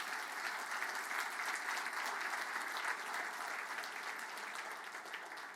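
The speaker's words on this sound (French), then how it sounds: "Je pense qu'on peut les applaudir parce qu'ils ont fait un travail acharné" Steady applause from a banquet audience at a francophone gala evening, dense even clapping that continues without a break and fades slightly at the end.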